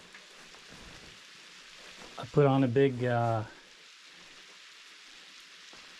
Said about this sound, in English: Big rain shower right now.